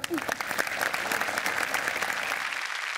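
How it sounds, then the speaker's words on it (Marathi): A crowd at a Marathi comedy show applauds to welcome an actress, a sustained, even wash of clapping with a brief vocal sound near the start. "जोरदार टाळ्या सगळ्यांसाठी"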